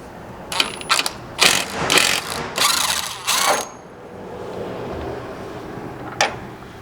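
A ratchet wrench clicks in short, close bursts while a bolt is removed from a 2022-or-later Toyota Tundra truck bed, then falls quiet with one brief tap.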